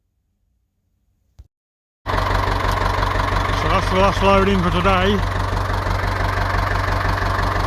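An E27N P6 muckloader tractor sits idling after a brief knock, its engine a steady, close mechanical rumble that runs on evenly while someone talks over it.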